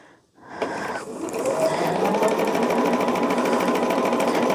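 A sewing machine stitches a quilt top, starting after a brief pause and settling into a fast, steady mechanical whirring and clatter that runs continuously and close by.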